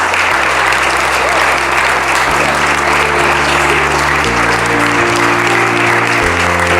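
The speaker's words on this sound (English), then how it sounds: "Let's have a huge round of applause for this panel." Loud, sustained applause from an audience honoring a panel of Jesuit alumni on political reporting, with steady low musical tones shifting underneath the clapping.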